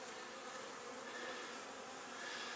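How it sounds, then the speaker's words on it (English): Honey bees buzzing around a row of hives, a steady, dense drone of many insects close by with no pauses. "lots of activity in all of the hives here"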